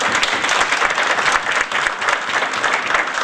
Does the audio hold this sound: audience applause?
yes